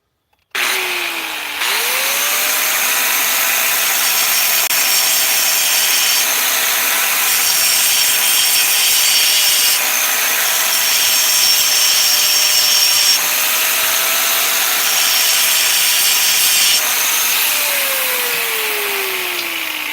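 A power tool trims a wooden nub during a repair job, its loud, continuous whine running for about fifteen seconds with slight shifts in pitch as it bites into the wood.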